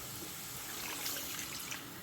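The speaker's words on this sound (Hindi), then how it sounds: "बस थोड़ा सा मैंने पानी दिया है" Water is poured into a cooking pot holding pieces of meat for Eid namkeen gosht, a steady close trickle and splash that continues evenly without pause.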